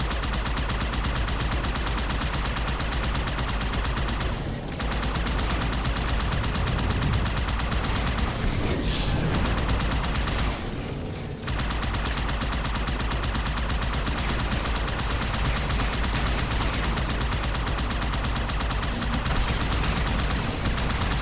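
Enemy weapon fire in Halo 2 forms a dense, continuous barrage of loud shots and explosive noise, nearly unbroken throughout with only brief dips.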